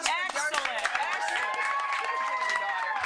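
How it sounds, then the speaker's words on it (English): A studio audience claps and cheers on a morning television makeover show, a continuous crowd wash with excited voices and shouts over it. "A big round of applause"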